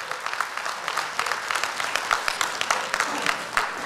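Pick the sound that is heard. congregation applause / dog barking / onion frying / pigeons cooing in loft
congregation applause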